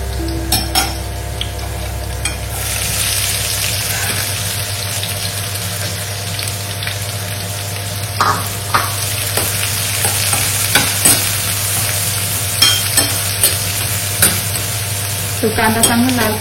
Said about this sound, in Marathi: तो कांदा चांगला लाल करून घेऊ.